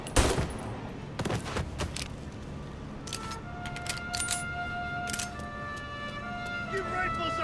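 Rifle gunfire in Mafia: Definitive Edition rings out as scattered sharp shots amid a busy battle mix, with loud voices shouting over the fire and tonal music-like lines rising in the background.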